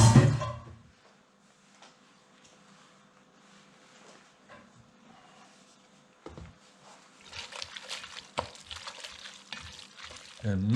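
Cooked linguine tossed with sauce in a pan, first quiet and then wet slapping and stirring sounds growing busier and louder toward the end, with a brief clatter near the start.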